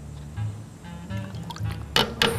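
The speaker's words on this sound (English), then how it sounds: "Now I will add the lemon juice to the milk. We'll give it a quick stir." Lemon juice poured into a pan of milk and stirred while making homemade Arabic cheese: faint liquid drips and a soft pour, ending in two brief louder splashy bursts, with no talk.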